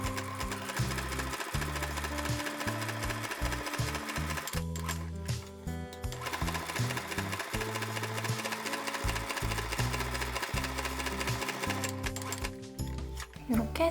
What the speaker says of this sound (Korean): 아까 표시한 그대로 재봉을 상침을 해줄 건데 저는 3줄 재봉 기능 이용해가지고 한 번에 3번씩 왔다 갔다 해서